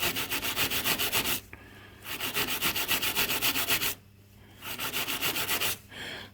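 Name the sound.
brass wire brush scrubbing aluminium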